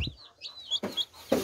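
Young chicks peep repeatedly in high, sliding calls up close, joined by a couple of sharp handling rustles.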